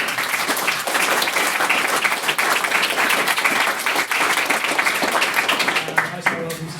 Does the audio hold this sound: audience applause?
yes